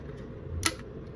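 A cheap light dimmer switch gives a single sharp click amid a quiet low room hum, close and brief.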